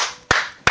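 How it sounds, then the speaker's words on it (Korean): Two sharp hand claps, close and loud, coming in quick succession after a brief lull, with no talk over them. "박수!"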